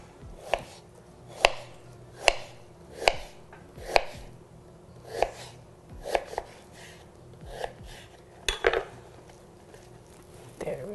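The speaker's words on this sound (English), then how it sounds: "now it's time for us to slice them very thinly, just like that" A knife slices cored pears thinly on a cutting board, making about a dozen crisp, evenly spaced chops that sound close and clear, with a faint voice now and then in the background.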